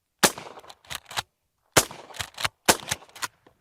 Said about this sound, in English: I wanna shoot some 410 because it's just dang fun.